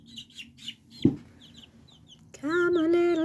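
A young farm chick gives faint high peeps, then a single soft thump, then a loud sustained clucking call close by that fills the last second, with no talking.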